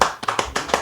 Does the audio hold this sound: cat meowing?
no